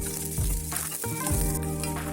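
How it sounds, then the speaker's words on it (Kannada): Green chillies and garlic sizzle and crackle in two spoons of hot oil in a pan while cooking taro leaf chutney, a steady close fry with stirring scrapes and no talk. "ಈಗ ಬಾಣಲೆಯಲ್ಲಿ 2 ಸ್ಪೂನ್ ಎಣ್ಣೆ ಹಾಕಿ ತುಂಡು ಮಾಡಿಟ್ಟಂತಹ ಹಸಿಮೆಣಸು ಹಾಗೆ ಬೆಳ್ಳುಳ್ಳಿಯನ್ನು ಹಾಕಿ ಫ್ರೈ ಮಾಡ್ತಾ ಇದ್ದೇನೆ."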